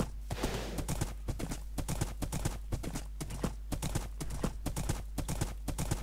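A horse trots along in Minecraft hardcore mode, its hooves clip-clopping in a quick, steady rhythm that stays close and prominent for several seconds over a low steady hum.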